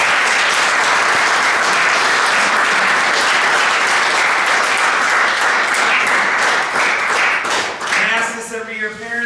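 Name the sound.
audience applauding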